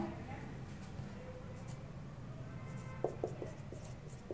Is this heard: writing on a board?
yes